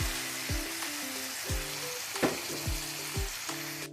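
Ground beef sizzling steadily in a pan as beef broth is poured in, with recurring low thumping stirs about every half second over a constant broad fry hiss, no talk.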